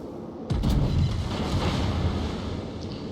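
In a naval video game, the battleship Georgia fires a broadside from its big guns, a single heavy boom followed by a long rumbling roar that slowly fades under wind and sea noise.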